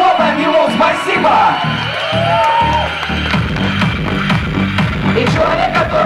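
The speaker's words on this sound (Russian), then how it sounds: "давайте похлопаем ему, спасибо!" Crowd at a rock concert in Saint Petersburg's ArcticA Club cheers for the sound engineer, with loud whoops and yells over a steady roar that carries through the whole stretch.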